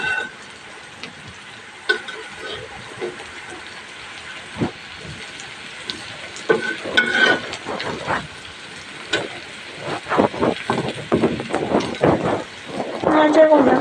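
Onions frying in a pan with a soft sizzle and hiss, stirred with intermittent scraping clatters that grow busier toward the end; a voice talks faintly in places.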